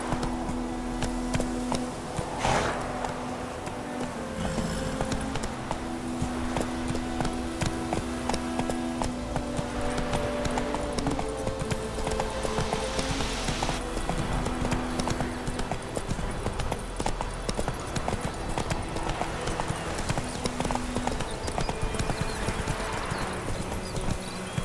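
Roach the horse gallops in The Witcher 3: Wild Hunt, with steady, rhythmic clip-clop hoofbeats running throughout over a sustained musical score.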